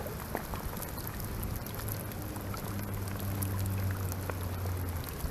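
Rainwater flowing down a gutter in a yard with very little fall makes a steady, moderately loud rushing and trickling, continuous from start to finish with no voices.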